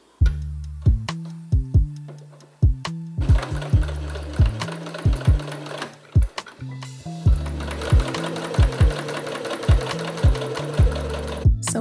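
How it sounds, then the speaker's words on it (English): Sewing machine stitching silk fabric, joining the two ends of a long rectangle: bursts of rapid mechanical needle chatter in short starts and stops, then a longer steady run, close and loud with no talk. "So here I am sewing the two ends of a long rectangle together."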